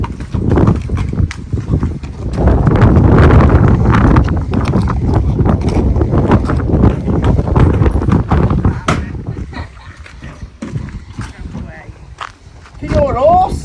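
Hooves of a horse named Jack clip-clop steadily on a hard surface through most of the stretch, close and fairly loud, with wind buffeting the microphone and people talking over the steps.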